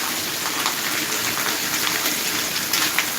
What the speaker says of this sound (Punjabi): ਬਹੁਤ ਆ ਜਿਹੜਾ ਜੋੜ ਦਾ ਮੀਂਹ ਪੈ ਰਿਹਾ ਹੈ